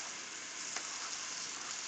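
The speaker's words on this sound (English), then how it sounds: "We're going to be stirring and frying." Tomatoes and onions fry in hot oil in a Nigerian dish while being stirred, giving a steady close hiss of sizzling with a faint scrape partway through.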